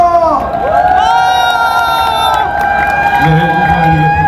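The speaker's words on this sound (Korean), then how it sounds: "여러분들의 함성과 연호가 필요할 때입니다" A large outdoor crowd at an April 2024 Korean election campaign rally cheers and chants loudly and continuously, with sustained rising shouts close by.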